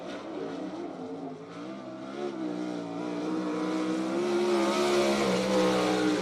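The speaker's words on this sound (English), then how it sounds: "Green flag waves over the Tom Book Motorsports entry" A dirt track race car engine roars at BAPS Motor Speedway in York Haven, PA, as the green flag waves, a steady loud growl that swells and grows stronger toward the end, with no talk over it.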